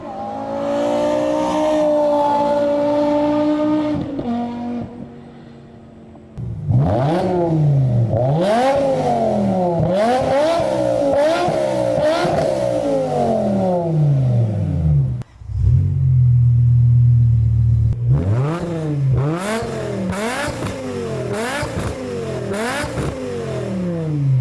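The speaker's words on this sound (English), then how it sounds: "a sound that maximizes the potential of this engine. Deep, resonant, with that unmistakable V10 howl," BMW M6 E63 V10 fitted with an FMU custom exhaust, revving hard under load in repeated rising howls, with a short pause and a loud low idle burble before more sharp, close revs.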